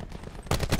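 Gunfire from the Call of Duty Black Ops 4 Blackout battle royale, with a quiet stretch giving way to a burst of loud, rapid shots in the second half.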